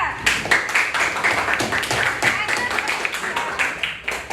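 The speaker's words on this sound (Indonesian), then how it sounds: "tepuk tangan lagi untuk kelompok 2" A classroom of students claps for a student group after its poster presentation, dense, steady applause filling the whole stretch at close range, with voices mixed into the clapping.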